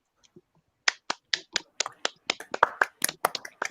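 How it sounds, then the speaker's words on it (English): A slow clap from a single pair of hands: sharp, close claps that start sparse and quicken into a looser, faster run of about a dozen, alone in a quiet room. "Yay, slow clap."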